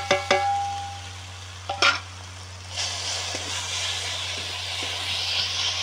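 Mushrooms being stirred into a cooked masala in a pan: scraping and clattering strokes early on, then a steady close sizzle of frying that fills the rest, over a constant low hum.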